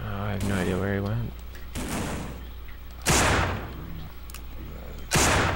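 Gunfire in the zombie shooter No More Room In Hell, with several sharp, loud shots cracking at close range between stretches of a player talking.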